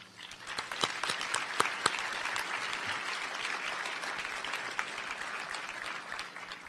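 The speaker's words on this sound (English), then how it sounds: "I'd like to give you a round of applause" Sustained applause from a graduation crowd honoring parents and partners, dense and steady with a few sharper claps standing out early, continuing evenly throughout without a voice over it.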